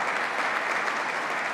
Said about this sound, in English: So let's give them a round of applause for keeping our people safe.